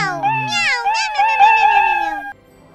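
A human voice imitates a cat's meow in a Minecraft cat roleplay, stretching one long, wavering, pitch-bending mew close up and loud before it cuts off into quiet.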